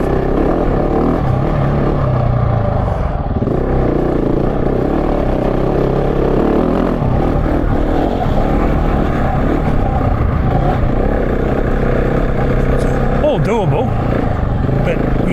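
A GasGas 700 or CFMoto 450MT adventure motorcycle climbs a rutted dirt trail toward rocky ledges, its engine a loud, steady drone mixed with heavy wind rumble, while a rider talks over it throughout.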